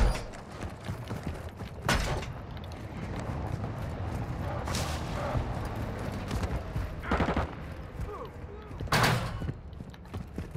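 Video game gunfire, several sharp bursts spaced a few seconds apart over a busy mechanical background, with a voice talking faintly underneath.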